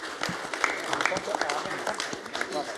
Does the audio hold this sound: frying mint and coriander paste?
no